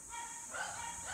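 Several dogs bark in the distance, somewhere below a street in the Philippines, a short run of faint yips sitting under steady city background noise.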